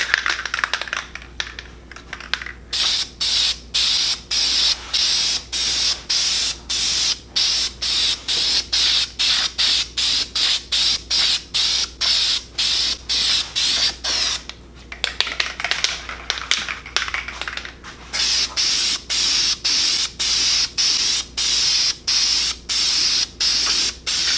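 A spray can of Krylon truck bed coating hisses onto a wheel in many short even bursts, a steady run of close sharp sprays separated by brief gaps, with no voices.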